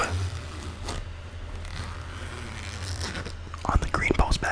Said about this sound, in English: I do like this zipper